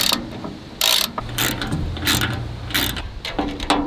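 Sharp ratcheting clicks come from bolts being tightened on a new land-clearing mulcher, in short bursts with brief pauses between them, close and fairly loud.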